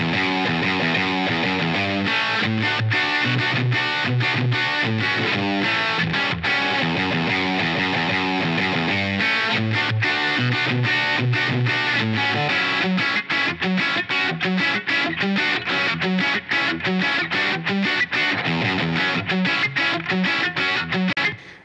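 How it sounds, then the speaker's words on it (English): Soloed electric guitar run through Line 6 Helix Native with an 8 kHz high-cut filter, a dense, driven riff of rapid picked notes and chugging chords, steady and loud without pause. "So that's going to sound like this, processed by Helix Native."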